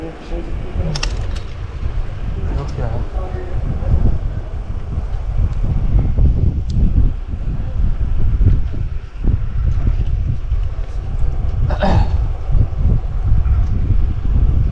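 Strong wind buffets a microphone with a continuous low roar while moving outdoors, steady and loud, with occasional faint knocks and rattles.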